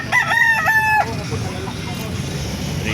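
A rooster at the Calumpit market gives one loud, close crow lasting about a second, followed by faint market background noise.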